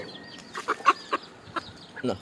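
Several short clucks from a country hen in a loose, uneven series, fairly close and moderately loud, with brief gaps between them.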